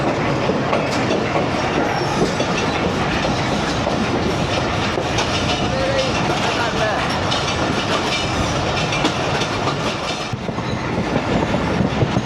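A train passes close by with a ZCU locomotive in the lead, giving a loud, continuous rumble with clickety-clack wheel noise throughout and no voices.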